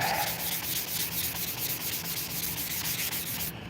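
Brake rotor material being sanded, throwing off brake dust: a loud, continuous rhythmic scraping and rubbing close up, with strokes repeating about every quarter second, alone without speech.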